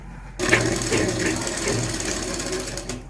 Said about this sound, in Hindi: अब हम इसमें यहाँ पर एक बारीक सिलाई यहाँ पर किनारे किनारे की लगा लेंगे